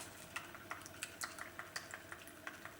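Paint being stirred with a dose of thick coconut milk hair serum, a quiet, steady run of soft scraping clicks repeating about three times a second, close and faint with no voices.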